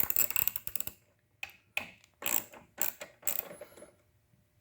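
A ratchet wrench clicks in quick bursts while removing 8mm carburetor bolts from a Briggs & Stratton 725 OHV small engine, several short rapid clicking runs separated by pauses, close and fairly quiet.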